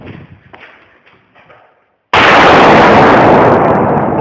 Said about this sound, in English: And here's the explosion inside the bunker